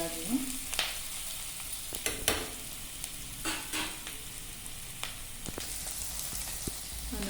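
Oil sizzles and crackles steadily as spices and garlic fry for dal tempering, with scattered pops and a few scraping stirs, close and moderately loud, no voices.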